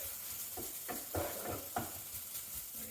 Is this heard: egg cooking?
yes